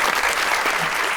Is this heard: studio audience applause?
yes